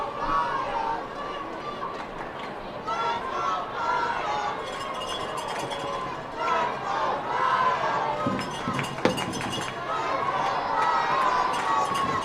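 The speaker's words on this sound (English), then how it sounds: "Crowd really getting into it here at Dunfield" A baseball crowd at Dunfield during an Elmira Pioneers versus Batavia Muckdogs game keeps up a steady, dense roar of cheering and chatter, with a broadcaster's voice talking over it throughout.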